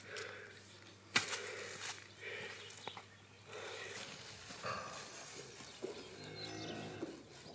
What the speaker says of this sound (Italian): Le pecore sono poche, non le fai passare.